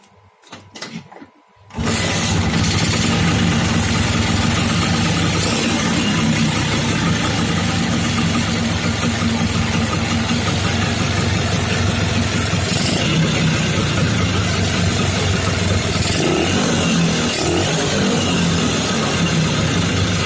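A small engine fitted with a PWK carburetor on a pneumatic-system intake manifold catches after a brief quiet start, then settles into a steady, loud, close idle that runs unbroken to the end with no talking.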